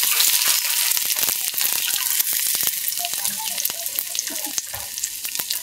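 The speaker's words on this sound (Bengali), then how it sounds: "আমি হালকা ভাজবো।" Chopped garlic frying lightly in oil, with a bright, crackling sizzle and sharp popping spatters at close range, fading slightly over several seconds.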